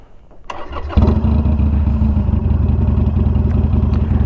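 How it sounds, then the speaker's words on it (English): A Harley-Davidson Iron 883 motorcycle fitted with an auto tuner cranks briefly and then fires up, settling into a loud, close, lumpy idle that runs steadily to the end. "now that we have the auto tuner set up, we'll go ahead and start the bike"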